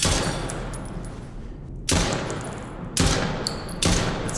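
Three loud gunshots ring out in a bodycam-style horror shooter, each a sharp crack that rolls into a long fading echo, with roughly a second between shots.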